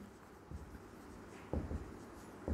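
Chalk or marker writing on a classroom board during a physics lesson, heard as a few soft scratchy strokes at close range against a quiet room hum.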